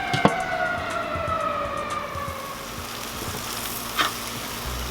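Korean short ribs sizzling over mesquite smoke on a Weber kettle grill, a steady hissing crackle with a few sharp pops and a faint passing siren-like whine in the background.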